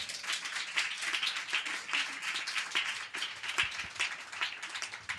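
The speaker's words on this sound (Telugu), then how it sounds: "మేము చూస్తామన్న వాళ్ళు గట్టిగా చప్పట్లు కొట్టాలి." A church congregation claps loudly and steadily during a Telugu worship service, with dense sustained applause and no talk over it.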